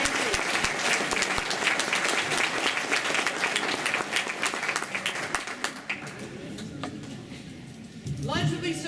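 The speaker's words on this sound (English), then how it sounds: "How about another round of applause?" Applause from a reunion audience gathered for a founders' panel fills most of the stretch, steady and fairly loud, thinning toward the end as scattered voices and brief talk come through.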